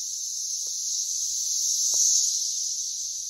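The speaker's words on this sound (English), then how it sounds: "There's a ton of cicadas in this tree." A dense, loud cicada chorus rings from a tree full of insects, a steady high-pitched drone that holds throughout, with a couple of brief faint knocks underneath.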